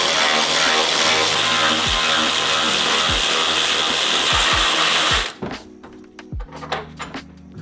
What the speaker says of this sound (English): I'm lazy, so I'm gonna use the electric ratchet.